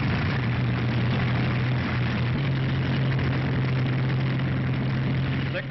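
Military aircraft engines run at idle, a loud, steady, continuous drone with a low hum underneath that holds unbroken from start to finish.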